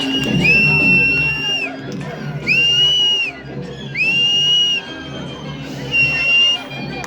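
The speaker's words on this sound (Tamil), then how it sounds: "ஒரு பெரிய பெரிய கைத்தட்டலோட வெல்கம் பண்ணிடலாம்" An audience at a ceremony welcomes a guest with loud crowd noise, cheering and shrill whistles that rise in repeated bursts over a continuous hubbub of voices.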